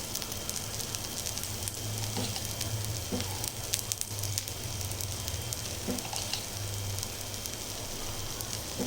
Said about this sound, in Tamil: எண்ணெய் விட்டு தீ திட்டமாக போட்டு நம்ம இந்த தோசை சுடணும்